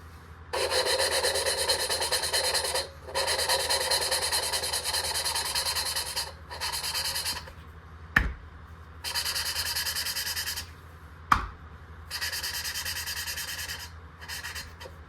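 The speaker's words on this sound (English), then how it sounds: "just a really good grinding sound almost. And what that's doing is it's polishing everything in there" Repeated bursts of harsh, rasping grinding from a polishing tool inside a part of a big-block Ford 460 engine being rebuilt, each lasting a few seconds, with brief pauses and two sharp knocks between.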